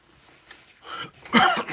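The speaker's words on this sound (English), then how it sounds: "I still have a cough" A single person coughs and clears their throat, a few rough bursts growing louder toward the end, close and alone.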